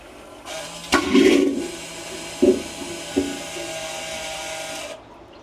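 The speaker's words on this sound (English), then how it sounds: "Now that is a distinctive difference in the way that the macerator toilet flushes." A macerator toilet flushing aboard a Riviera motor yacht: a steady mechanical whir and rush of water with a few louder surging bursts, running for several seconds before cutting off abruptly, close and fairly loud.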